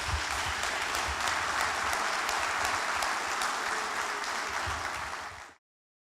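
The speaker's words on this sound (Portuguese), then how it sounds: "Vamos aplaudir o Senhor Jesus por essa palavra." A church congregation claps together in sustained, dense applause, loud and steady throughout before cutting off abruptly near the end, with no voices over it.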